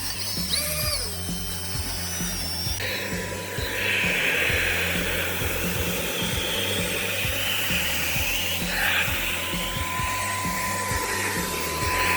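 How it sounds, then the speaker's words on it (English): A steady, loud motor whine of a vacuum cleaner on a Volvo car floor runs throughout, with bumps and rattles as the nozzle moves around, no talking. "before installing your Dynamat, vacuum the floor"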